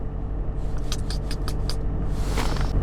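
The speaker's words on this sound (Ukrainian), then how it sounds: "Машина прогрілась." A warmed-up car engine idles steadily in a low, even rumble close by, with a brief jangle of keys over it and no voices.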